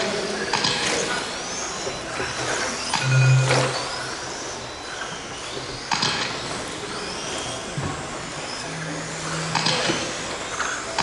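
Scale race cars running on a track during a qualifying session: a steady whirring mechanical drone with ratcheting clicks and occasional rising whines as cars pass, continuous and moderately loud throughout.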